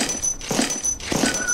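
A dog in the video game Entropy Zero 2 lets out two short, close whimpers, each a quick high whine with a brief pause between them.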